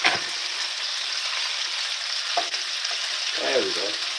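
Bacon sizzles steadily in a hot pan, a dense hiss running the whole time, with a few soft scraping stirs near the end and no talking.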